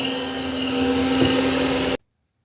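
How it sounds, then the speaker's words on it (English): A Shark cordless vacuum cleaner, either the Freestyle Max SV2002 or the PowerPro Flex Reveal, runs with a steady, loud whirring motor drone and a constant tonal hum, then cuts off abruptly into silence. "a comparison between the Shark Freestyle Max cordless vacuum cleaner on the left and the Shark PowerPro Flex Reveal on the right"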